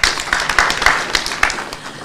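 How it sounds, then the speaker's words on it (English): An audience at a party headquarters event claps for an elections board. The applause is lively and close, with a quick, uneven rhythm of overlapping claps that holds steady throughout. "Please clap for them."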